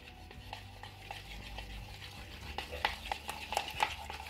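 Gold glitter slime ingredients are stirred in a small container, giving faint soft scraping strokes that turn into brighter clicking taps toward the end, with a low rumble in the background.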